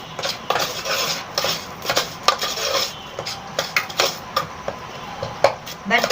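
A spoon scrapes and stirs warm laddoo mixture inside an electric kettle, producing irregular clinks and rubbing scrapes at a steady working pace, close and moderately loud with no talking.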